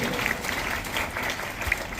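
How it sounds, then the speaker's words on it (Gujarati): An audience claps for a prize winner at an Independence Day school event, a moderate burst of applause lasting the full couple of seconds, fairly close and without talk. "તો તાળીઓથી વધાવીશું ભાઈ."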